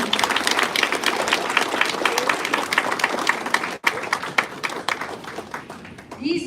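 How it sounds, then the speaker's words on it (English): Audience applause for honored performers at a Vietnam War Veterans Day gathering at an American Legion post, dense steady clapping from a crowd lasting several seconds, with a brief dip and a few voices near the end. "How about a round of applause for them, everybody?"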